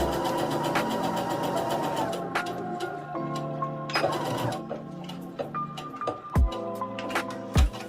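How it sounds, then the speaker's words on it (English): A sewing machine runs a straight stitch closing the open end of an elastic waist maxi skirt, its rapid needle chatter coming in bursts that stop and start, with a few sharp clunks near the end. "I'm going to sew the open end closed with a straight stitch."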